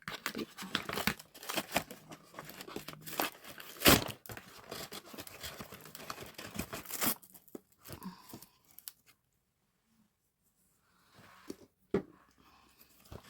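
Scissors cut open crinkly plastic packaging of an advent calendar box, with dense rustling, crumpling and snipping for about seven seconds, then quieter scattered handling sounds.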